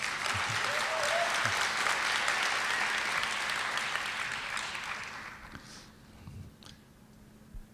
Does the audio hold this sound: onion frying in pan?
no